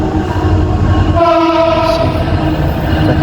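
A train passing close by on an Indonesian rail line, with a loud, heavy rumble throughout and a sustained horn sounding midway, with no voices.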